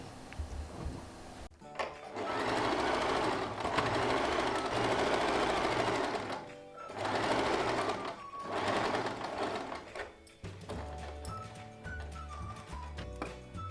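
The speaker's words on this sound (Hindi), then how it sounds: "इस तरह बस कपड़े को फोल्ड करेंगे और सिलाई डाल देंगे।" A sewing machine runs in bursts while stitching along the folded edge of salwar fabric, leaving a gap for elastic; several loud whirring runs separated by short pauses, close up, with no talking.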